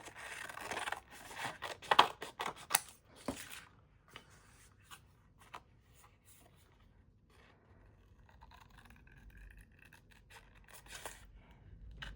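Scissors cut paper for a junk journal made from a paper bag, with a burst of close scraping snips and rustles at first, then sparser faint cuts and rubbing in a quiet room with no talking.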